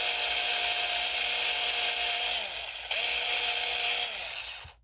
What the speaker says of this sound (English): A little cordless sander.